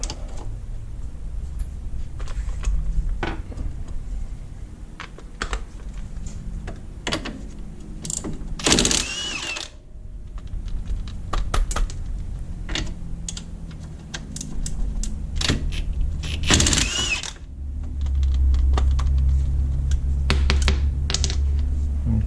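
Hub bolts being loosened on a 2006 Yamaha Kodiak 450 ATV during rear axle work, with uneven ratcheting clicks and metallic rattles up close and two louder bursts of tool noise, no one talking.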